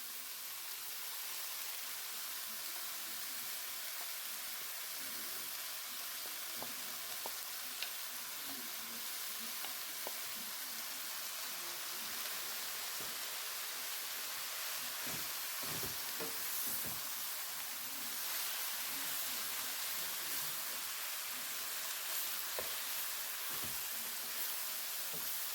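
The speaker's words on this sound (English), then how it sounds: "Now this is going to saute just for about 2 minutes" Kale sautéing in a pan, a steady close sizzle and hiss of frying that runs the whole time with small crackles and pops scattered through it.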